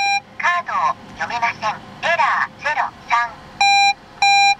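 An in-car card reader in a Japanese-market car gives electronic chirps and warbling tones in short bursts after a wrong card is inserted, ending with two long steady beeps, loud and close.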